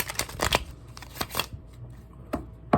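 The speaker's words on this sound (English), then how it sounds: "Let's use a better shuffle." Deck of playing cards being shuffled at a magic trick table, with a few quick riffling bursts and a louder final snap, close and alone without talk.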